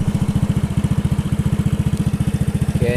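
A Honda Wave 100 motorcycle, fresh from a brake shoe replacement, runs close by on a test ride, its small engine thumping in a fast, even rhythm that stays loud and steady throughout, with no voices.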